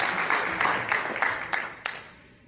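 A church congregation breaks into applause, a broad, fairly close wash of clapping with a few sharper bursts, slowly thinning out over a couple of seconds.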